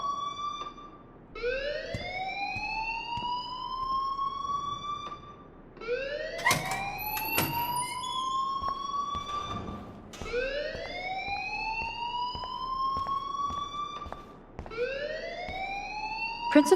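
Whoop-style electronic alarm from a school fire alarm in the video game Life is Strange, repeated rising sweeps cycling every few seconds, loud and steady throughout, with brief higher beeps overlaid partway through.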